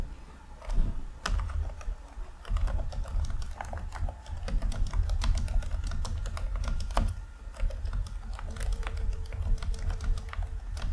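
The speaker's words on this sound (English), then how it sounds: "The buttons have a nice click to them." Rapid, steady clicking of keys on an Acer Aspire E15 laptop keyboard, close and continuous over a low background hum, with no speech.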